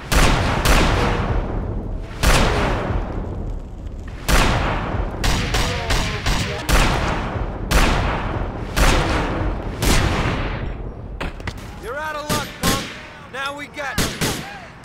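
Repeated bursts of gunfire from GTA IV, loud and close, firing in uneven volleys across the whole stretch with short gaps between them, plus brief game voices near the end.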